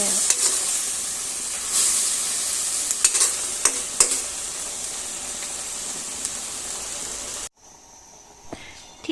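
Mekong River fish is dry-roasted in a pan for Isan-style larb, a steady loud sizzle broken by scraping stirs, then cut off abruptly, leaving only faint scattered clicks.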